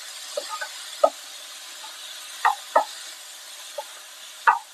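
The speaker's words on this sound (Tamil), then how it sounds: "லைட்டாக வதக்கிட்டு புளியை ஊற்றுறோம்" Eggplant sautés in a pan with a steady soft sizzle, while tamarind water is poured in and scattered sharp knocks and stirring clicks stand out close by, with no voices.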